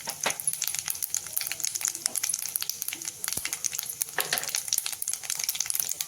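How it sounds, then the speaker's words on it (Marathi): Two spoons of cumin seeds sizzle and crackle in hot oil over a low gas flame while a fried chutney of green chillies and curry leaves is being made, the close, steady frying dotted with sharp pops. "गॅस लहान करूनच आपण करू जिरे टाकू एवढ्या दोन चमचा जिरे"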